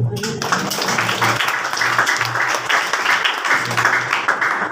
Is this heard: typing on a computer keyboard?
no